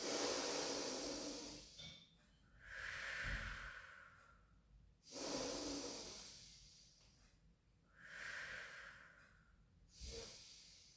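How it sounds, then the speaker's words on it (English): During a pilates shoulder and hip mobility exercise, slow, audible breaths come close to the microphone, several long inhales and exhales in an even rhythm with no talking. "Take a breath in."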